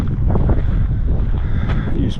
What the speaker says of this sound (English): wind's blowing about 10-15 miles an hour today